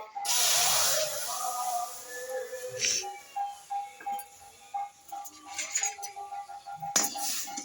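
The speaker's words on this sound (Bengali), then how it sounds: "আমার কড়াই গরম হয়ে গেছে এবার আমি এই গরুর দুধটা দিয়ে দিচ্ছি" A loud burst of hissing sizzle as cow's milk hits a hot wok, fading into quieter bubbling and faint clinks with a voice speaking intermittently.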